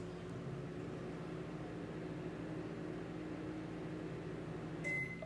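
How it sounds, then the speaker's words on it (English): A microwave oven hums steadily while heating marshmallow for a few seconds, a constant low drone with faint noise and a small blip near the end. "Okay, I have my microwave here next to me. So I'm going to heat it up for a couple of seconds."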